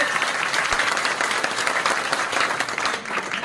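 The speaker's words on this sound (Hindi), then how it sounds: "एक बार जोरदार तालियां बजाकर आशा मीना जी का स्वागत करेंगे।" A crowd at an Indian political gathering claps loudly and continuously to welcome a guest, a dense, even wash of applause throughout.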